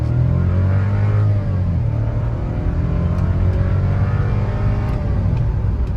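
A 2025 VW Nivus Highline with the 1.0 TSI engine accelerates hard on the road, its engine note rising steadily and dipping briefly at quick gear changes, loud and continuous from inside the car.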